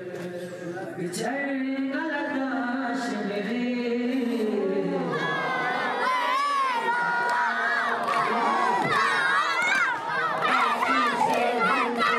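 A dense street crowd shouts and screams during a Muharram procession mourning Hussein in Leh, India, many voices overlapping loudly and continuously, rising into higher, more excited cries in the second half.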